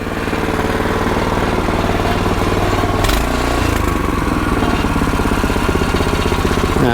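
Engine of a Champion 19-inch rear tine tiller running with the choke off, a loud, steady close-up chugging drone with a brief shift in pitch midway.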